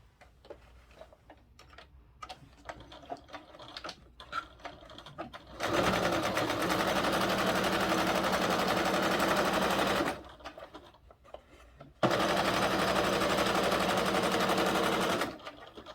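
A sewing machine top-stitches an eighth-inch seam on a fabric billfold wallet, running steadily for about four seconds, stopping briefly, then running again, close and clear with no talking.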